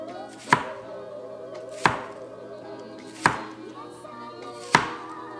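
A knife slices small peeled baby onions into rounds on a cutting board, making four crisp, evenly spaced chops about a second and a half apart, each a close, sharp knock against a faint steady hum.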